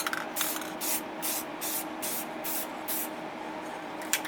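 A top coat of clear paint is sprayed onto a Rapido F59PH model locomotive in repeated short hissing bursts, about eight in quick succession, close and steady.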